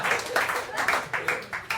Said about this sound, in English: You see how all the poor people are clapping?